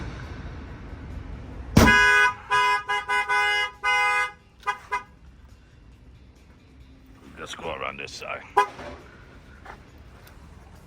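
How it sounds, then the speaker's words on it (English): A Snap-on tool truck's newly installed alarm sounds during a test, a loud harmonic siren-horn blaring in a rapid string of choppy bursts for a few seconds. It then falls quiet while someone talks nearby. "It's gonna set off the alarm."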